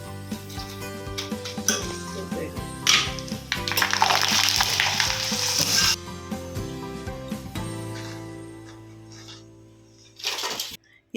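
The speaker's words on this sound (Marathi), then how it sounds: "ते काही वेपर्स मी तळून दाखवते तुम्हाला" Potato wafers fry in hot oil, a close, bubbling sizzle with scattered clinks and scrapes of a utensil against the pan, fading toward the end before a final short rattle.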